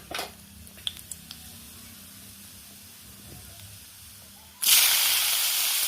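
A few faint clicks over quiet background, then a sudden loud sizzle and hiss as grated sweet potato hits hot ghee, continuing steadily to the end.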